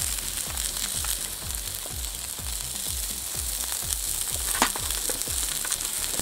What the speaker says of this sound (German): Seht ihr, wie schön das brutzelt?